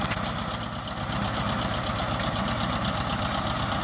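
A John Deere 37 sickle bar mower runs steadily while cutting knee-high grass, its engine droning at a constant loud level with a rapid, even mechanical chatter throughout and no voices.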